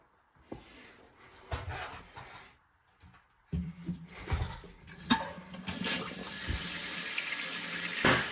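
Water rushes steadily from a tap during a toilet flange replacement, starting after a few clicks and handling noises and growing into a continuous hiss.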